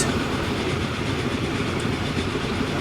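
Freight trains rumble along the tracks in the video game Transport Fever 2, a continuous, even, fairly loud rolling roar with no speech.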